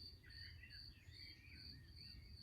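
Crickets chirp steadily and faintly in the open countryside while a few birds call intermittently in the background, with no voices present.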